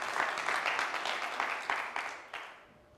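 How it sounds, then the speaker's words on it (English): An audience on a live televised school quiz show gives a round of applause for a school team, a moderate burst of clapping that gradually tapers off. "Let's give a huge round of applause to Intare School."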